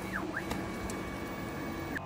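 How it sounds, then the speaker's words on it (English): A Bambu Lab X1 Carbon 3D printer runs its calibration routine, giving a steady mechanical hum with short rising and falling motor sweeps and a few brief clicks, close and alone. "while the printer is calibrating"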